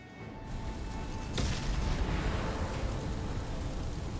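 A loud explosion in Mass Effect Legendary Edition bursts in sharply about a third of the way through, then gives way to a sustained, roaring rumble of debris and fire that carries on at high level to the end.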